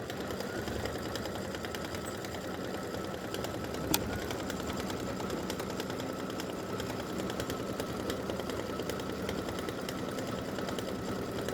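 An embroidery sewing machine stitches out the word "which" with a steady, fast needle hum. It keeps an even mechanical rhythm throughout, with one brief knock near the start.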